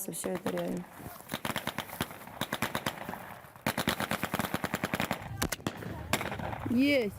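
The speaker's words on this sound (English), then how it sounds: "The only thing that I don't like is that we use blank cartridges." Rapid bursts of blank-cartridge gunfire crackle in quick repeated volleys during a battle training exercise, close and loud, with a voice heard briefly in the middle of the shooting.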